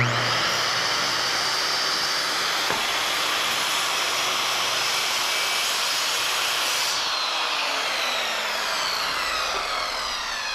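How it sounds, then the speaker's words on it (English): A circular saw whines loudly and continuously as it plunge-cuts through plywood, its pitch shifting slightly partway through before it keeps running. "I'm going to pull my blade guard up, and I'm going to plunge this cut"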